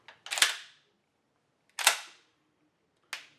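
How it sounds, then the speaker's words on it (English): A firearm's action snaps sharply during a function test, three crisp metallic clacks spaced apart in a quiet room, with the bolt cycling and the trigger clicking. "we'll run a preliminary function test on the firearm"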